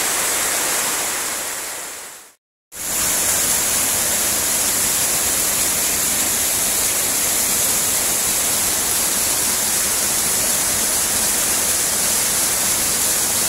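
Tumpak Sewu waterfall with murky water pours in a loud, continuous roar of rushing water, broken by one brief silent gap near the start before the steady torrent resumes.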